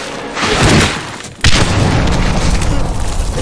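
A loud grenade explosion in Medal of Honor Warfighter combat, one close booming blast that follows a short rumble, with dense noise trailing after it.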